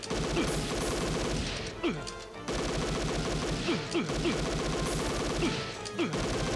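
Rapid, dense gunfire and impacts fill the action in Policenauts, with continuous crackling bursts broken by a short pause, loud and steady throughout.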